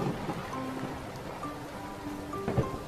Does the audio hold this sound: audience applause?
no